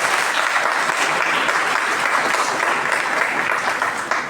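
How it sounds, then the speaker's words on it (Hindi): An audience at a school Independence Day performance program gives steady, full applause, with dense, continuous clapping that holds through the clip and tapers slightly at the end. "तो एक बार जरा सबके लिए अच्छी सी ताली बजाइए।"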